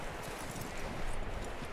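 Horse hooves clopping steadily at close range in the Red Dead Redemption 2 video game, a dense continuous run of hoofbeats with no talk over it.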